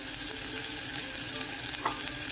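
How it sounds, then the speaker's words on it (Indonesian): Tiny dried shrimp (udang rebon) dry-roasted and stirred in a hot pan while making grilled pempek, giving a steady close crackling sizzle with scraping stirs throughout and no talk. "tinggal kita cemplungin udang rebon tadi teman-teman. Kita sangrai"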